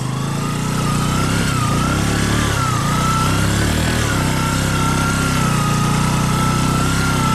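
A Bajaj Boxer 125 motorcycle rides off-road through slippery mud in a bean field, its small engine droning loudly and steadily up close with slight revving swells throughout.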